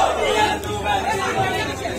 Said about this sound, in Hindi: एबीवीपी के 200 से अधिक कार्यकर्ताओं ने थाली ताली और घंटी बजाकर प्रदर्शन किया और विश्वविद्यालय प्रशासन के खिलाफ नारेबाजी की।